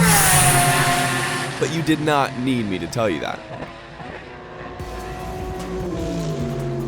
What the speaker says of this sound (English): that 911 RSR is the best sounding car out there